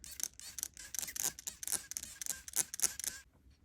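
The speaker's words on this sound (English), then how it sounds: "Now I'm going to spray it down once more. In this spray bottle" Repeated short hissing bursts from a handheld spray bottle misting seeds on a paper towel, about a dozen quick pumps in an irregular rhythm, close and fairly clear, then stopping.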